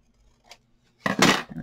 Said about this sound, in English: I'm just going to go around all my little edges and cut those out